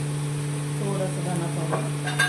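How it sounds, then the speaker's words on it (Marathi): Masala of red chili powder, coriander powder, cumin and turmeric roasting in a pan for butter chicken, a soft continuous sizzle with scraping spoon strokes stirring through it, close and steady. "मसाला इथे छान रोस्ट करून घ्यायचा चांगलं."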